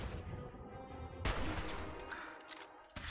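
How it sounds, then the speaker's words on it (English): A missile fired at the player in Fallout 4 hits with a sudden loud blast, surrounded by continuous rumbling gunfire and scattered impacts, fairly faint overall. "He is shooting me with a fucking missile"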